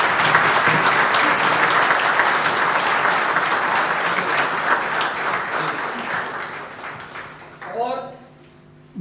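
A company event audience breaks into loud, sustained applause, a dense wash of many clapping hands that slowly fades over several seconds before a voice begins speaking at the end.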